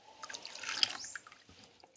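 Ordinary water rinses maggots in a container used for feeding catfish, giving faint close dripping and trickling that swells briefly and then trails off into scattered drips.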